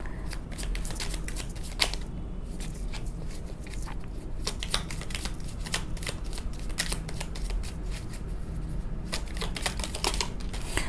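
Tarot cards are shuffled by hand in rapid, dense riffling bursts that continue almost without pause, close and alone.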